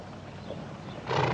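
A horse whinnies in a 1971 western film, a short neigh rising near the end over a steady outdoor background.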